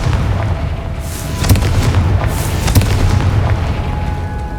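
A Confringo fire spell bursts in the Hogwarts Legacy video game with two heavy booms about a second apart, each a blasting crack over a steady low rumble of combat noise.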